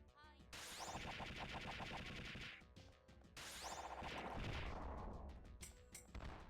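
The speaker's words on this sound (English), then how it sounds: "I think it's the slime boss, so I'm gonna use my my magic Gatling." Magic Gatling gun in Recettear blasting at a slime boss: rapid, rattling volleys of rhythmic shots in two long bursts, with crashing impacts and bright chiming effects in a busy game soundtrack.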